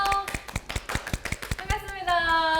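Studio audience clapping to welcome a guest onto a Korean talk show, a loose scatter of sharp claps under music and voices, fading as the guest arrives.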